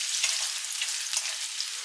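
Potatoes hiss steadily in hot oil with green chilies and curry leaves, a dense close sizzle running without a break and rising in a few soft bursts. No voices.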